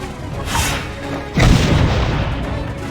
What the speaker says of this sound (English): A smoke bomb.